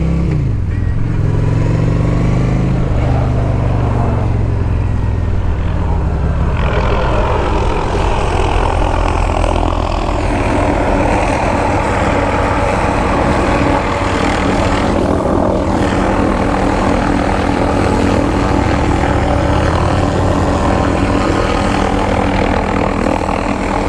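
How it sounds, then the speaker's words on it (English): A loud, close PP&L helicopter engine roars continuously with throbbing rotor pulsing, swelling and shifting in pitch as it passes low overhead. "Look how low he is. Holy cow, what are you doing, helicopter? He's crazy low."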